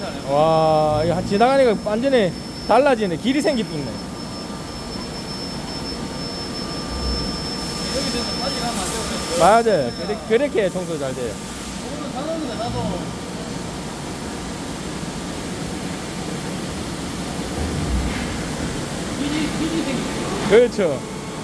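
A walk-behind wet floor scrubber sucking up dirty, greasy water hums with a steady mechanical drone, while people talk over it in short bursts throughout.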